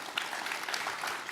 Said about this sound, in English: let's clap for that one.